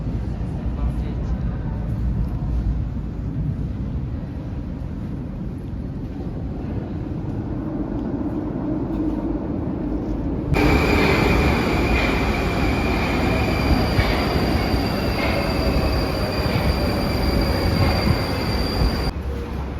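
Moscow metro train running at Elektrozavodskaya station, a steady loud rumble of wheels and car noise that grows louder and brighter partway through with a faint high whine, with people talking nearby.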